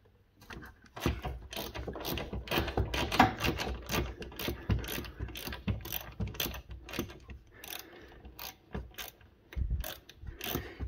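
Ratchet with a 10 mm socket and extension clicking on a Volvo 940 during a front fender replacement: close, rapid bursts of pawl clicks in irregular strokes, with brief pauses and some clanking of the tool.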